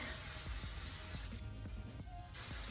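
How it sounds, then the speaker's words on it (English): An aerosol can hisses in a steady spray, cuts off briefly, then sprays again, close by with faint clicks underneath. "I take my hairspray"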